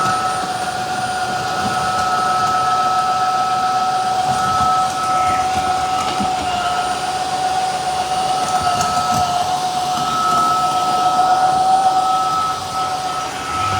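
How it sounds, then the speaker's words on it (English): A Tineco S9 Artist Pro vacuum runs in auto mode with a steady whine and high tonal hum, its suction ramping up and surging intermittently while cleaning spilled chocolate syrup and coffee, with no talk over it. "We're in auto mode, so it turned red and ramped the suction up"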